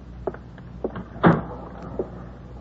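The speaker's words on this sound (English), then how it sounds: "Shut the door." A door swings shut with one solid thump in the middle, amid a few lighter knocks and shuffles in a quiet room, close by, with no talking.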